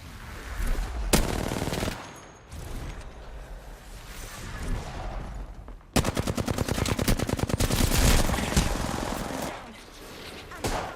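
Gunfire in a shooter video game: a sharp burst, then a long rapid automatic volley of loud rattling shots, with whooshes between, no voices.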